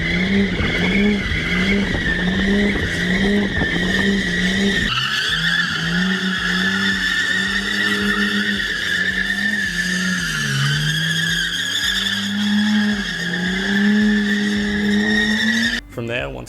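A 1994 Nissan R33 Skyline GTS-T with a turbo engine drifting in sustained circles, tires skidding and squealing loudly and continuously over a steady engine drone, close up, with no break for the whole stretch.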